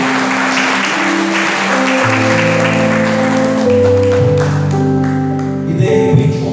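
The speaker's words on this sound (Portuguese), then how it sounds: "Aplauda o nome do Senhor por isso." A church congregation applauds in a dense, steady wash of clapping that runs throughout, layered over sustained keyboard chords that shift beneath it.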